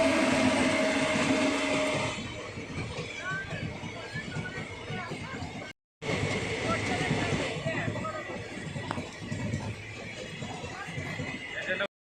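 Train noise at Khardah railway station, a broad rumble of rolling carriages running steadily throughout, briefly cut by a short gap, with station bustle and voices talking over it.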